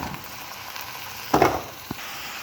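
Country chicken pieces and onions, with ginger-garlic paste, fry in a pan. A low steady sizzle carries a brief louder burst of sizzling and one short knock of stirring, with no talk.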